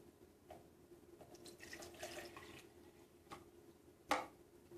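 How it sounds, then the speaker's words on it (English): Water is poured into a pyramid-shaped container during a volume measurement, a faint, soft trickle running for a few seconds with a sharp little clink near the end. "If I take my pyramid and fill it up with water"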